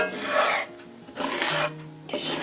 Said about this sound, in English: is just letting it brown, scraping it forward, scraping it back